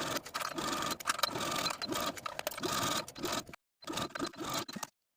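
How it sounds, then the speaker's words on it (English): A sewing machine stitches binding around the armhole of a silk dress, running in a steady whirring rattle with brief pauses, stopping for a moment and then running again before going quiet, close and fairly soft. "Now go to your sewing machine and sew the binding all around the armhole with a 3/8 inch seam allowance."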